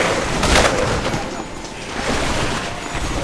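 Dense, loud bursts of gunfire crackle continuously for a few seconds amid a busy mix of game noise in Dead Rising, with no talking.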